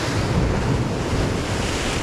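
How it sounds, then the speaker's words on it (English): Strong, steady wind blusters across a rocky seashore, a dense roar blended with surf and buffeting the microphone throughout, with no voices. "It was pretty windy, or it still is"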